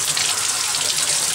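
Water sprays steadily into a bathtub from a hose, a close, continuous hiss and splash.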